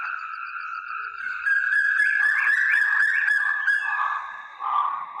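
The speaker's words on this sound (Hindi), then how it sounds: "तभी मुर्गे के बाग देने की आवाज सुनाई देती है" A rooster crows in the morning, a long drawn-out call close by and clear, heard on its own with no talking.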